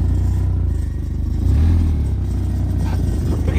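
A Honda Civic's engine holds a steady low drone that swells in revs around the middle, with faint clatter and a voice murmuring in the background as the car strains for a burnout.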